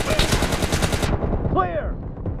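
Gunfire in the mobile game PUBG Mobile: a rapid burst of loud automatic shots for about a second, then a short pause with a brief ricochet-like tail.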